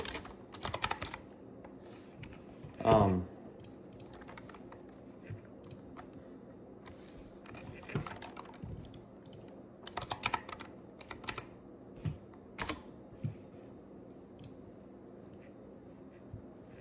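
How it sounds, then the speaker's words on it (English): Keys on a computer keyboard clack in scattered, uneven presses, some close and sharp, others light, with a louder burst near the third second and quiet pauses between. "to click on Windows plus I on your keyboard"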